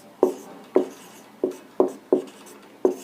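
Chalk or marker strokes on a board during a chemistry lesson, six sharp taps and scratches at an uneven, unhurried pace, close and clear with no talking.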